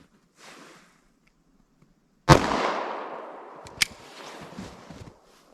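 One sharp, loud gunshot from a 9mm Golden Saber bonded +P 124 grain hollow point cracks outdoors and echoes away, followed a moment later by a smaller distant bang.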